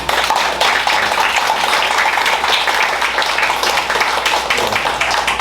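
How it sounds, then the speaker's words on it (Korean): Church congregation clapping in unison, a loud, continuous wash of applause from many hands that holds steady for several seconds without pause. "우리 크게 한번 박수해 주시기 바랍니다"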